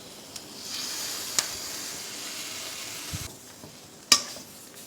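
Masala being mixed in a pan for Balochi tikka biryani, heard as a steady close sizzle and hiss with a few sharp scrapes and clinks of the spoon against the pan.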